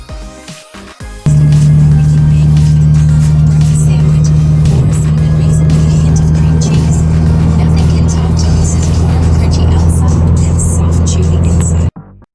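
Steady engine drone from a Scion FR-S sports car cruising on the road, heard from inside the cabin, loud and continuous with a low hum for most of the stretch before cutting off near the end.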